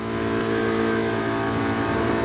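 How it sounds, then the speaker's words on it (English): Race car engines rev hard on the grid before the start of a Sardegna road track race in a racing video game, a loud, steady, sustained engine roar with no talking. "Revs are up, as you can hear, absolutely revving"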